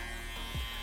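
Electric hair clippers buzz steadily at close range while blending a taper fade during a barbering haircut, a brief, fairly quiet hum with a slight swell partway through.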